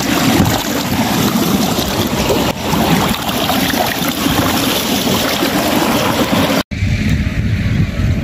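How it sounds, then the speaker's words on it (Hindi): Irrigation water gushes forcefully into farm fields, a loud, continuous rushing roar close by, steady throughout with a brief break near the end. "तो पानी जो है इतना जोर से निकाल कर जा रहा है"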